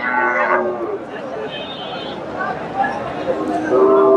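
At a cattle market in Bogura, Bangladesh, milking cows low close by amid voices talking, with drawn-out moos rising over the chatter at the start and near the end.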